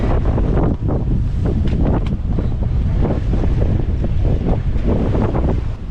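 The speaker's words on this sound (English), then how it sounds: "High waves, strong winds, and rain arrived while the fishermen were harvesting their catch." A sea storm batters a small fishing boat, with strong wind roaring across the microphone and heavy waves surging around the hull in a loud, continuous, rumbling wash with no voices.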